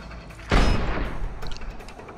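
A sniper rifle shot in Sniper Ghost Warrior 2: one sharp, loud crack with a heavy boom, followed by a fading rumbling tail and faint clicks.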